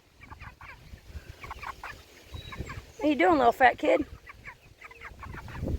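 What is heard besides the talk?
chickens clucking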